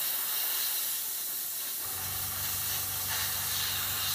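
An airbrush at about 22-25 psi blows air to dry a layer of Vallejo chipping medium on a model, a steady close hiss that keeps going throughout, with a low motor hum rising partway through.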